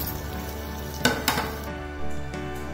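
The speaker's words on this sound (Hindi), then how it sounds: "इसी तरह हम सारे कटलेट सेक लेंगे।" Leftover-rice cutlets fry in oil in a kadhai with a soft, steady sizzle, broken by a few sharp metallic clinks of a utensil against the pan near the middle.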